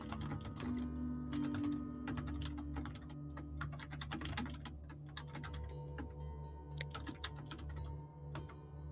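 Keyboard keys clatter in steady, busy bursts of clicks during note keeping at a tabletop game session, close and continuous with short pauses and no talk over it.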